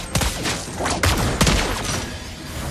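Gunfire in a video game battle: several loud, close bursts of shots crack out in quick succession over a busy background of game sounds.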